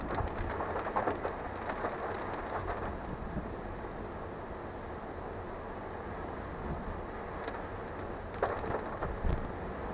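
Steady rain falls on a rainy day around a Nissan Leaf electric car on a mountain road, a constant close hiss with a few louder drips and taps, no voices.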